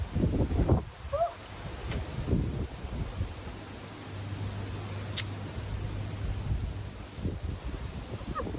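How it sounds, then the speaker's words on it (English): Gusty wind blowing outdoors, a steady low roar with rustling bursts and buffeting against the microphone, moderately loud throughout with no talking. "Wow, really windy, isn't it?"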